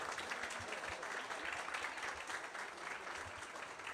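Applause from an audience at a football fan gathering, quiet and somewhat distant, a steady wash of clapping with a few low thumps underneath.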